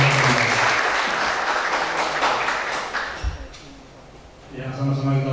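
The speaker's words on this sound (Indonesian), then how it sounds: "Tepuk tangan untuk kita." Audience applause at a public university lecture and scholarship handover on a campus in Dumai, Indonesia: dense, loud clapping that fades out over a few seconds, with someone speaking over it and again afterward.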